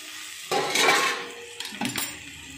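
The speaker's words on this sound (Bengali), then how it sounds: "এবার আমি ঢাকনাটা খুলে নিচ্ছি" A metal lid lifted off a cooking pot of bitter gourd, eggplant and small fish curry, giving a close clatter of metal on metal around the half-second mark, then a few lighter clinks near the end.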